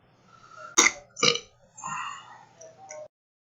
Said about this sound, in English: I got the alcohol burps.